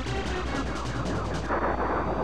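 Rapid laser blasts from an Arwing in the Star Fox video game's Sector X stage crackle in a dense, continuous volley over layered game sound effects.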